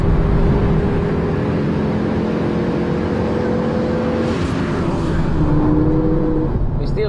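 Heard from onboard, the engine of a Ford Focus RS500 pulls hard through the gears, with steady rising tones broken by shift changes, loud and close under a driver's talk.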